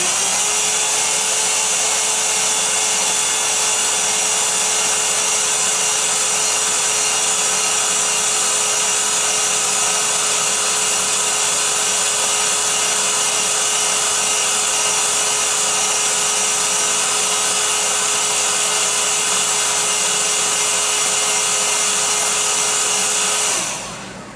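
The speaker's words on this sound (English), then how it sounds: "I think heat this up just a little bit more and bend this some more." Steady blowing whine of a heat source warming PVC pipe so it can be bent into a backpack frame, running loud and unchanging for about twenty seconds before cutting off abruptly at the end.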